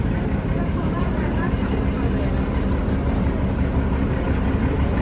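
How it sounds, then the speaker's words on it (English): A boat engine goes by on a river, a constant close low churning drone with broad noise that stays loud for the whole stretch, and no voices are heard. "Look at that engine, that boat."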